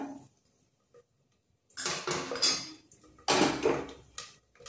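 Whole spices dropped into hot oil in a pan for mutton soup, a quiet start then two bursts of sizzling crackle and clatter, close and loud, with no talking.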